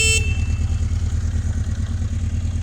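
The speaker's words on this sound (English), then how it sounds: "Horns loud, the way it should be." A 1982 Honda CB750K motorcycle gives a loud, steady horn blast over a rhythmic, pulsing idle, the horn ending quickly while the engine keeps chugging alone.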